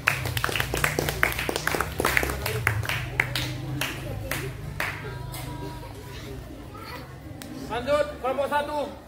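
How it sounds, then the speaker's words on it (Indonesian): Elementary school pupils in a physical education floor gymnastics class clap their hands in a brisk burst of applause. Chatter and talk continue over the clapping as it thins out. "Oke, baik, tepuk tangan"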